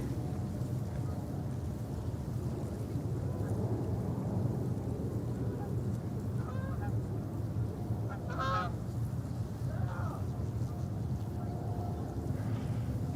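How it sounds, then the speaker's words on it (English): Geese honk near an airport, a few brief honking calls rising out of a steady roar of wind and engine noise, fairly distant and faint. "Well, are people now arguing with the geese here?"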